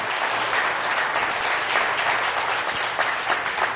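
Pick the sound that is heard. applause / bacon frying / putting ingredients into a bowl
applause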